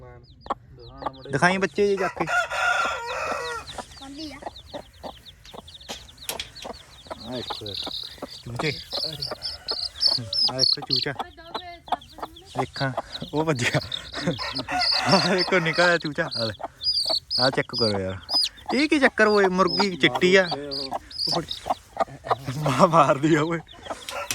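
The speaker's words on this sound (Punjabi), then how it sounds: "ਜਾਵਾ ਜਿਹੜੀ ਆ ਮੁਰਗੀ ਦਿਖਾਈ" Java breed chickens cluck and a rooster crows repeatedly under steady, close conversation, with bird calls popping up throughout.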